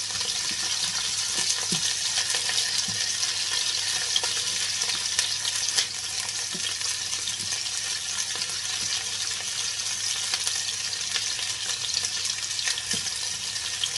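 Chicken searing in a griddle pan on an induction hob at full heat, a constant loud hiss and crackle with occasional sharper pops, close by and steady with no talking.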